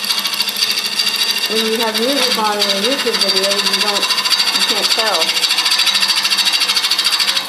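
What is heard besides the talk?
lathe tool hitting air and shards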